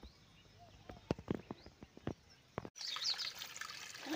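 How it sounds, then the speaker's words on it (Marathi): Rainwater trickles and splashes as it drains out of a farm field after heavy rain, with scattered close drips giving way to a steadier rushing flow; faint birdsong sits in the background. "वावरातलं पाणी आता सध्या तर निघू राहिलं."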